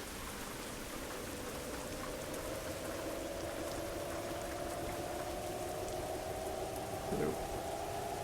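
Steady rain hiss in the Euro Truck Simulator 2 video game, heard while driving a KSRTC bus through a flooded area, with a low engine drone running underneath throughout.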